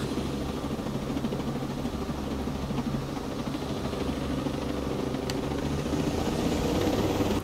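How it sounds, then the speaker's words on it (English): A helicopter engine in Ghost Recon Breakpoint drones steadily and loudly with a constant whirring hum throughout, with no talk. "We've got a helicopter, it'll be quicker to maneuver around."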